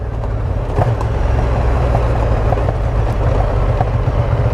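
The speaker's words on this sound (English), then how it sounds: "And that popping from the exhaust." A Ducati Diavel Dark motorcycle engine rumbles steadily at close range, with short crackling pops from the exhaust scattered through the drone.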